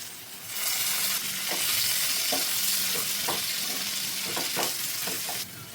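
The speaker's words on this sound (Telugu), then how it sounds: "ఒకసారి కూర కలయి పెట్టుకుందాం." Bitter gourd curry with jaggery and tamarind is stirred in a pan, a soft steady sizzle with several distinct scraping clicks of the spoon against the pan.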